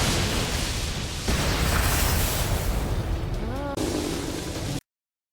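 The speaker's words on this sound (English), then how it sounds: "This is a fucking cannon." An anime cannon fires amid a loud, sustained blast and roaring rumble lasting several seconds, with a brief whooshing streak near the end before it cuts off abruptly.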